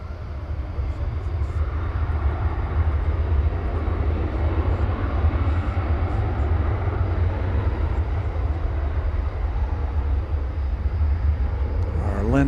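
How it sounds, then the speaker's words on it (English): Airliner on its takeoff run from the west side of DFW Airport, bound for Ontario, California, giving a steady, loud, broadband jet engine roar with a heavy low rumble that holds constant throughout. "This is flight 761. It's going to Ontario, California, and it will be taking off from over here on the west side."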